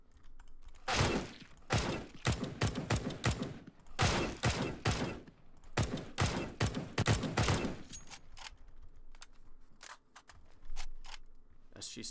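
Rapid bursts of automatic rifle fire from the CS:GO September 2016 update, including rifles like the M4, AUG and SG, cracking in quick strings with short pauses, then sparser single shots at the end.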